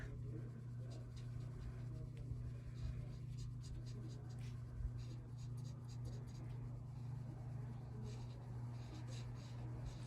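Soft scratchy strokes of hand-coloring on a pull tab greeting card, repeated in short bursts over a steady low room hum, close and quiet with no talking.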